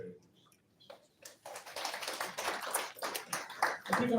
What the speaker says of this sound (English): A big round of applause for this very succinct review.